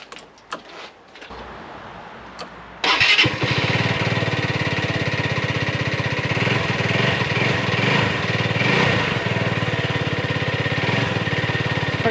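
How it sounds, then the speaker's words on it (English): Lexmoto LS-Z motorcycle engine fired up after an oil change: a few seconds of handling noise, then the small single engine starts and runs at a steady, loud, close idle with light revving, no talking. "I'm just gonna give it a little rev."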